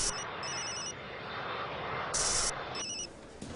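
A tri-band mobile phone rings with a bright electronic trill in short repeated bursts, fairly faint against a steady aircraft-cabin hum, with no talk.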